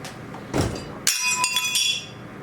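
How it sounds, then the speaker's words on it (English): A wing mirror breaks off a Citroen 2CV during a rough attempt to get it running: a sharp crack followed by a few brittle glassy clinks and rattles, close by, against a quiet background. "The wing mirror just came off."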